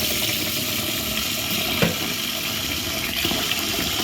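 Rice being washed in water in a home kitchen, a steady rush of running, splashing water with a couple of brief clinks.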